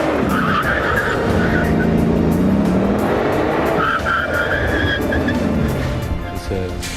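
A Bugatti Veyron accelerates hard and then brakes to a stop, with a loud, close engine roar and squealing tires, while someone talks over the sound.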